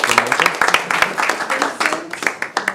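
Clapping from the audience at a school district board meeting, a loose burst of individual hand claps from a modest crowd, fairly close and uneven in rhythm, with some voices mixed in.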